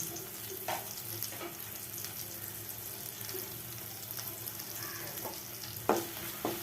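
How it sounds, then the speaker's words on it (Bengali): Spices with salt, chili and garam masala powder frying and being stirred in a pan for an elephant foot yam curry, a steady soft sizzle with occasional scraping stir strokes and a few louder clinks near the end. "এবার মশলাটাকে আমি কষাতে থাকবো"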